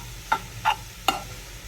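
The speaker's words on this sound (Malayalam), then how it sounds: "എന്നിട്ട് നന്നായിട്ട് ഇളക്കി മിക്സാക്കാം." A fish peera mixture with ground pepper is stirred in a pan, giving three distinct scraping strokes, each close and crisp, spaced evenly over a soft frying hiss.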